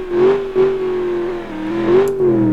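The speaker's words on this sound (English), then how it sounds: "this normal, really kind of humdrum truck. I mean, it makes an okay noise." Close, loud engine of a truck in BeamNG.drive revving up and down, a steady droning tone that rises and dips in pitch.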